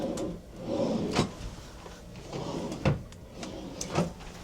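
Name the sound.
drawers opening and closing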